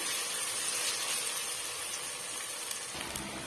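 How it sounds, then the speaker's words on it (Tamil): Ginger garlic paste and green chillies sauté in a pan for egg biryani, giving a steady close hiss and sizzle that holds evenly throughout with no talking. "அது வரைக்கும் நம்ம வதக்கி விட்டுக்கலாம்"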